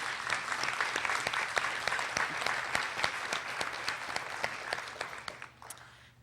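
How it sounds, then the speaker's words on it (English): Audience at a race relations forum applauding, scattered distinct handclaps in a moderately sized room, steady then tapering off toward the end. "let's give them a warm round of applause,"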